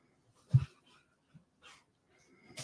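A dog that is not a lap dog, jostling beside a computer, gives short close whimpers and snuffling breaths in a few brief bursts separated by quiet gaps.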